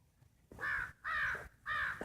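Three harsh, evenly spaced caws from a crow near a home where fish is put out for hungry crows, fairly close, with brief quiet gaps between calls and no speech.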